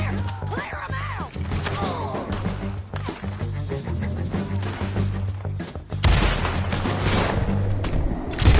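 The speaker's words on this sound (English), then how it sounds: "Keep shooting till they don't get up!" Gunfire fills a Red Dead Redemption 2 firefight: dense, loud, continuous volleys of shots and heavy thuds overlap with voices and ambience throughout, with a louder burst near the end.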